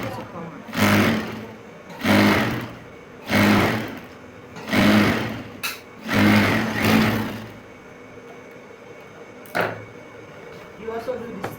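A sewing machine double-stitches denim in five short, even runs with brief pauses between them, then a couple of faint clicks and handling noises as the machine stops.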